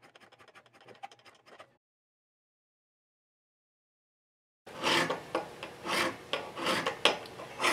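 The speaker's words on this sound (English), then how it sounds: "you don't actually finish the job with the crowning file, you just start it and get rid of all that squareness" A crowning file rasps across guitar frets: a faint run of quick strokes, then a pause of silence, then louder, closer rhythmic filing strokes in repeated bursts.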